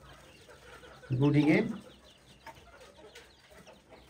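Chickens at a breeding farm let out one loud, brief burst of clucking and squawking in the middle, with quieter farm background around it and someone speaking briefly.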